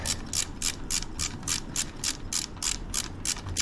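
Tool ratchets rapidly and steadily while tightening lifter hardware on a Harley-Davidson 131 SE crate engine, a dense run of close, crisp mechanical clicks repeating evenly throughout.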